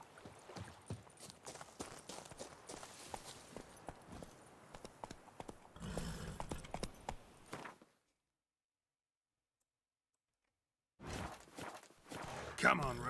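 Roach the horse trots in The Witcher 3 with steady clip-clop hoofbeats at a walking rhythm, followed by a rushing swell, a few seconds of dead silence, then hooves and movement resume.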